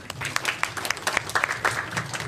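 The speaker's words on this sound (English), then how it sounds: "please give yourselves a warm round of applause," Seminar audience clapping in a room, individual hand claps distinct and irregular, fairly close and sparse rather than a dense roar, continuing across the whole moment.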